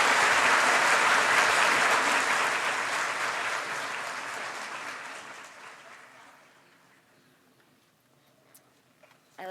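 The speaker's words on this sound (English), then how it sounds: "Everybody give a round of applause to our winner." Loud audience applause for a contest winner at a conservation science and art event, a dense wash of clapping that holds steady for several seconds, then thins and fades out to near silence.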